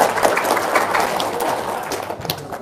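An audience claps together at an outdoor or hall gathering. The applause is a dense, steady patter of many hands that stays fairly loud and even throughout, then thins slightly near the end.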